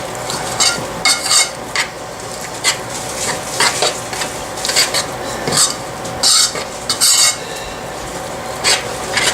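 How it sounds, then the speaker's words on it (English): A spoon works thick chocolate oatmeal cookie dough with peanut butter in a bowl, making loud, close, repeated scraping and clacking strokes in an uneven rhythm against a low background, with no voices. "Just mix it till it's all incorporated."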